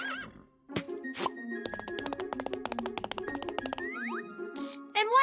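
A cartoon horse gives a loud whinny amid bouncy cartoon sound effects and a run of clip-clop hoof beats, all close and lively with no talking.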